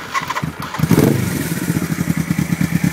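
A Suzuki GS 425L motorcycle engine cranks and fires up, then settles into a steady, loud, rhythmic idle chug close by, with no talking.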